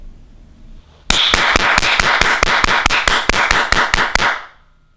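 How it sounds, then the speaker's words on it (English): About fifteen sharp hand claps in quick, steady succession right beside a glass of water, loud and close, starting suddenly after a quiet moment and fading out at the end. "I'm going to clap my hands next to the glass of water"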